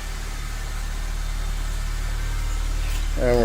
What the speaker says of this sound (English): we're going to activate the remote starter. Okay, our vehicle has started.